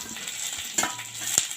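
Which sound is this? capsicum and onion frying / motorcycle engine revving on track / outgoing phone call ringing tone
capsicum and onion frying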